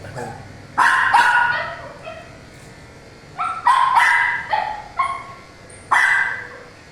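A dog barks angrily during a grooming haircut, with repeated sharp bursts of barking and yips separated by short pauses, close and fairly loud.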